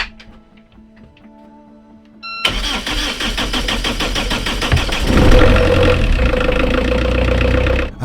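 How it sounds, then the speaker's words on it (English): A vehicle engine cranks and fires up after a quiet hum, then settles into a loud, steady running rumble that rises slightly midway, up close with no talk. "then we're gonna start the engine and see if it's charging the batteries"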